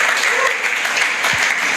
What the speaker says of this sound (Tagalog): Palakpakan natin na si Lord,